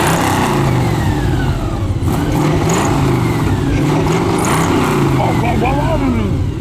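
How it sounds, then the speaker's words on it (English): A Cizeta-Moroder V16T engine revs continuously with a deep, loud intake burble and rising and falling pitch, heard close up with a person talking over it. "if I give it any throttle, any boot, it gets a big intake noise and a almost GT350R Chewbacca burble."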